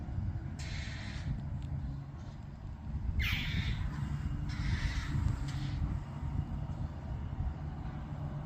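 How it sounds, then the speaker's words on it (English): Crows caw in a backyard, several harsh calls in a short loose series, moderately close over a steady low background rumble, with no talk. "but the backyard birds won't allow it."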